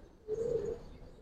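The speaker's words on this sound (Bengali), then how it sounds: "এটা খাকি কবুতর।" Close and alone, a khaki giribaz pigeon gives a single soft coo, a low rolling murmur lasting about half a second before fading.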